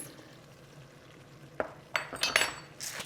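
Potatoes and green beans tipped into a cooking pot for Greek fasolakia, a quiet simmering background broken by a few close clattering and clinking knocks of food and utensils against the pot toward the end.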